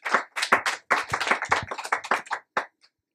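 Scattered hand claps from a small audience at a gathering, a dozen or so sharp close claps in an uneven burst that thins out and stops within about three seconds.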